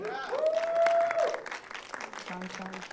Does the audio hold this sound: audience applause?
yes